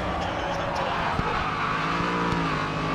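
Race car engine roaring steadily under hard braking in the racing game Grid Autosport, a dense continuous drone with a couple of sharp knocks, while a voice speaks faintly underneath.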